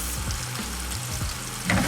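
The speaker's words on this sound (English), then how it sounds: "I'm just going to be frying it for like 1 minute." Steady sizzling of bell peppers frying in a pan of sauce, close up, with a brief clatter near the end.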